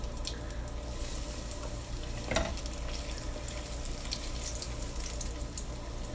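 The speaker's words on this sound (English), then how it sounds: "Nice sizzle." Oil heating in a frying pan for gluten-free chicken tenders gives a steady, faint hiss and crackle, close and continuous, with one brief louder pop partway through.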